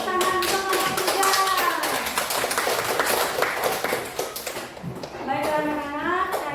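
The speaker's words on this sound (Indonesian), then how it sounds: "tepuk tangan untuk kelompok 3" A class of schoolchildren claps for a group's answer, rapid close clapping running throughout with children's voices chanting and talking over it.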